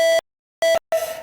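A mantrailing Android app sounds its alarm for straying off the trail: two short, clear electronic beeps and then a third tone that starts and trails off, each separated by silence.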